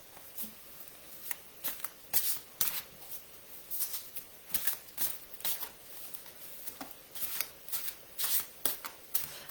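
Tarot cards are shuffled by hand for a reading, a quiet string of crisp riffling and flicking bursts in an uneven rhythm, with no talk over them.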